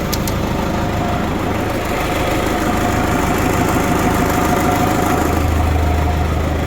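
In -20 degree frost, an MTZ tractor's diesel engine idles and warms up after a hard start. The rumble is steady, close and loud, with an even, slightly rough knock throughout.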